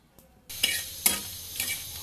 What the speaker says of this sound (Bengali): শুকনা মরিচ ভেজে নিচ্ছি।